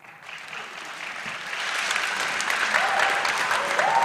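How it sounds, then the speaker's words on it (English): Quiz competition audience applauding in a school hall, a dense clapping crowd that builds from quiet to loud and stays sustained, with some voices mixed in. "Please clap for me."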